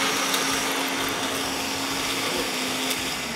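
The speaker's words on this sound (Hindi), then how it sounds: "ये चला गया ब्लेंड होने के लिए" A kitchen blender whirs steadily while grinding chutney for a chapli chicken fry, a loud continuous motor drone with a constant hum that holds at the same level throughout, with no talking.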